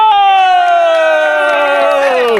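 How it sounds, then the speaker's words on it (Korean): Middle school students at a rainy summer camp on Jirisan mountain let out one long sustained cheering shout together, loud and close, which breaks off abruptly at the end. "자 선생님 위해서 환호 성과 박수"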